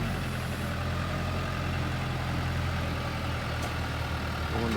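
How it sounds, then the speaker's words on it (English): A TYM T494 tractor with a turbo diesel engine idles steadily while it is backed onto a trailer. The engine drone is continuous and moderately loud, with no clear revving. "There goes the T494 getting backed onto the trailer."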